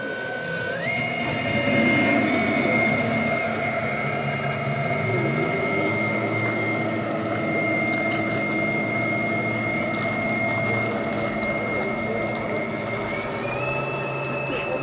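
The engine of a 1/7 scale RC Riva Aquarama boat, mounted inside the hull, runs steadily with a muffled, continuous drone and sustained tonal whine, rising in pitch near the start and again at the end; some faint talk sits underneath.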